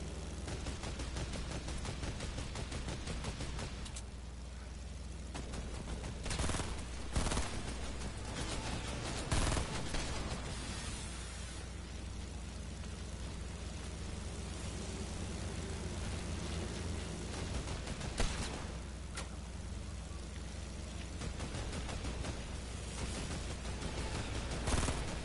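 Gunfire in a video game rattles through a steady rumbling backdrop, with scattered sharp shots and short bursts standing out at irregular moments over the continuous in-game noise; no voices are present.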